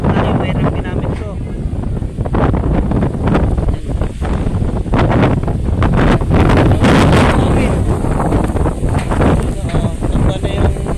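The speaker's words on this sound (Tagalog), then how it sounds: "Sa lakas ng hangin." Strong typhoon winds from Typhoon Kristine batter a farm, roaring and buffeting the microphone continuously at high volume, with rushing gusts throughout and a voice faintly heard beneath the noise.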